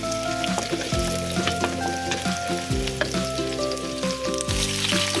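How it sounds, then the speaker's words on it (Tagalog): Garlic sizzles loudly in a pan in a dense, crackling hiss, with a low humming tone beneath that repeatedly drops in pitch, and occasional stirring clicks; no one speaks. "Haluin ang haluin para ang aroma ay mawala."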